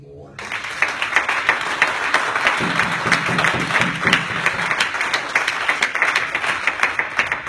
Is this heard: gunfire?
no